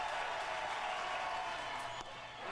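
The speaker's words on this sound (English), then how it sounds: "And this LSU crowd getting amped up again." An LSU baseball crowd at the Baton Rouge Super Regional roars and applauds in a steady, loud wash of cheering that holds throughout, briefly dipping near the end.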